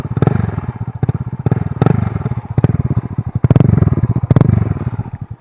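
A Honda Pop 100 motorcycle fitted with a mini Fortuna trioval exhaust idles up close, its loud pulsing exhaust note broken by repeated sharp blips of throttle roughly every second.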